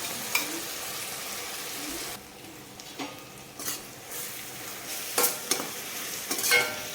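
Ground masala paste for mushroom biryani fries in oil in a pan, a steady close sizzle broken by repeated scraping strokes of a spoon stirring it.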